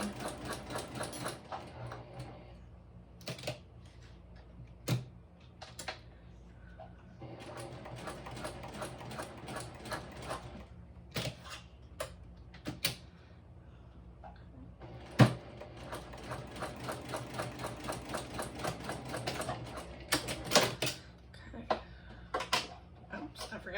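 A home sewing machine stitches through backpack fabric with a folded-over edge, running in several bursts of rapid mechanical chatter separated by pauses and clicks, with a voice talking between runs.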